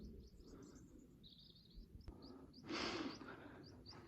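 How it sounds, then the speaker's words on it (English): Faint, high bird chirps come and go against a soft, steady outdoor background beside a stream in Dentdale, with a brief louder rush of noise in the middle. "just the birds."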